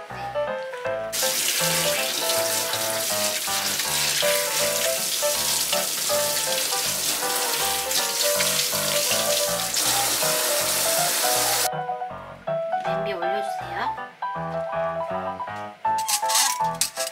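Fresh sweet corn is rinsed under a running kitchen tap, a steady loud gush of water lasting several seconds. It stops and gives way to smaller splashes and clinks, with music playing throughout.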